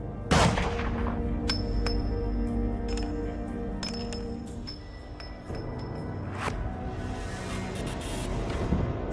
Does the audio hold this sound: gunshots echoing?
yes